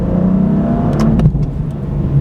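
A BMW M4 CS sports car drives past with a loud, steady engine drone that swells briefly, its throaty tone holding evenly throughout with no voices.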